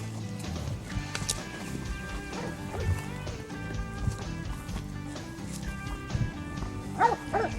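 Hunting dogs bark at Russian boar hogs hidden in thickets, a loose run of barks and yips heard at a distance beneath steady outdoor noise.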